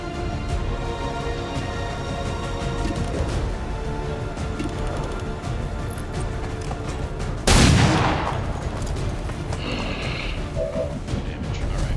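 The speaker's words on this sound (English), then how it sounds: "Just fire pistol." A pistol fires in XCOM 2, one sharp loud crack with a brief ringing tail standing out over a steady bed of game music and background noise.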